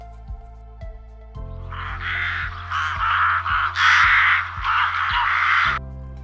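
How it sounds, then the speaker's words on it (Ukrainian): Several harsh, raspy caws from rooks in quick succession, loud and close, over a steady low musical background with a soft beat. "Одними з перших повертаються з півдня граки."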